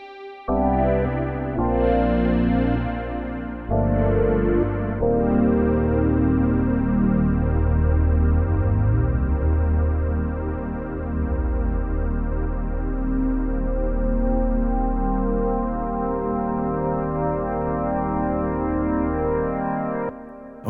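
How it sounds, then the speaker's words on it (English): Roland Alpha Juno synthesizer patches from the bundled MPG-50 MK2 bank play sustained, layered chords with rich harmonics, shifting between several distinct tones with no one speaking. "All the sounds you're hearing here are from the patch bank that is bundled with the MPG-50 MK2."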